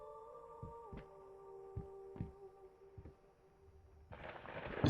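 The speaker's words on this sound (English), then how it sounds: "did my footsteps sound like a heartbeat then because I was going backwards and forwards in a weird pattern?" Footsteps in the horror video game Layers of Fear thud softly and unevenly, like a heartbeat, over a steady low hum. A brief burst of hiss closes the passage.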